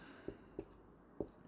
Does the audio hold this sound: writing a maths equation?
yes